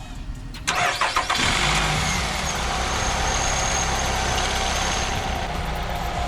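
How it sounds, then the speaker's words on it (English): A 2018 Nissan Rogue engine cranks with a short burst of starter whirring, then catches and settles into a steady, fairly close idle hum that continues alone to the end. "I'm gonna start the car and then make sure it works."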